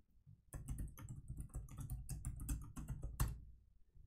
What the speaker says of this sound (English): So type in my password and connect.